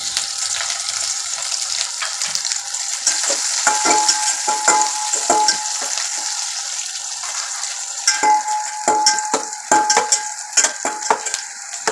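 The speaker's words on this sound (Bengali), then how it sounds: "এবার তেলের মধ্যে পেঁয়াজটা দিয়ে দিলাম। পেঁয়াজটাও ভালোভাবে ভাজতে হবে," Onions sizzle in hot oil in a pan while a utensil stirs them, giving steady frying crackle and a run of sharp scraping clicks up close.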